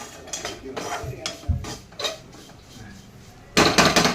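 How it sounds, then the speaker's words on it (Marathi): Roasted poppy seeds are poured and scraped out of a pan for dry-fruit laddoos: a run of clinks and metallic scrapes of a spoon against the pan, ending in a louder rattling burst. "खसखस पण भाजत आली आता आपण हे ओतून घेऊया"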